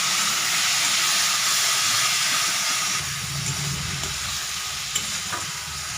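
Spice paste with fried bhetki fish cooking in oil, giving a loud, dense, hissing sizzle that eases slightly partway through, with faint stirring and a light knock near the end.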